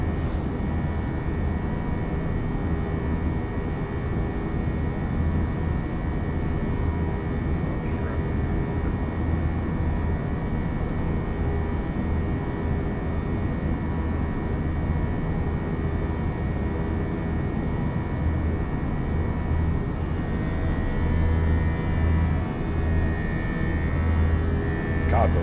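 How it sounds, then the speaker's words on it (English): Steady, droning low cabin hum of a Fenix A320 airliner in Microsoft Flight Simulator 2024 on a JetBlue Orlando–Nassau flight, continuous and even throughout with a faint high tone above the broad rumble. "Literally sounds like you're on an airplane. The little hum"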